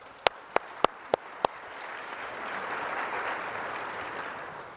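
Applause for a town hall panel: five sharp, separate claps open, then a soft, diffuse round of clapping swells and holds at a low, distant level.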